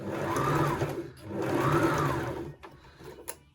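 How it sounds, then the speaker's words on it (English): A domestic sewing machine running a back stitch on skirt fabric, two close whirring bursts of rapid needle clatter separated by a brief pause, followed by a few light clicks. "So 1/2 inch is the wee line before the 2 holes on this machine. Do a wee back stitch."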